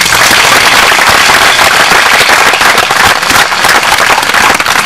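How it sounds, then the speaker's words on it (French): A crowd at an outdoor gathering in Casteljaloux applauding steadily, dense loud clapping that fills the whole stretch without a break, no voices standing out. "Il y a eu un bravo dans la foule"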